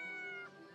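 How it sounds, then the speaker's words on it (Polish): A short meow from a cat in the video game Yes, Your Grace, a single rising-then-falling game sound effect heard alone over a steady music bed. "I tu jej kotek, Dusty."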